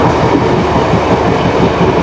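A train runs steadily along a newly laid railway track in Sri Lanka, giving a continuous, loud low rumble with faint rhythmic wheel clatter throughout and no talking.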